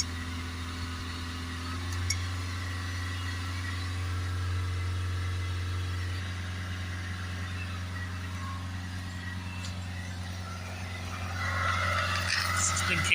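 Peugeot Bipper 1.3 HDi diesel engine held steady at around 3000 rpm by a pedal depressor, a constant close drone with a firm low hum throughout and a slight lift near the end, with faint voice traces.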